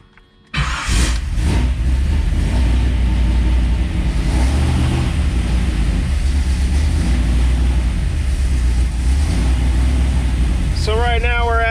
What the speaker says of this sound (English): let's see what happens when I start the truck up.